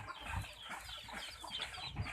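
Thai ngon crested chickens clucking in a coop, a few short low clucks over a steady rustling background, moderately close.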